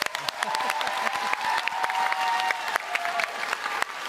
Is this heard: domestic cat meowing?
no